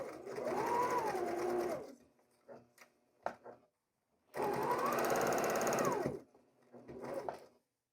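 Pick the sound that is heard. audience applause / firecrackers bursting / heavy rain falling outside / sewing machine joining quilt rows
sewing machine joining quilt rows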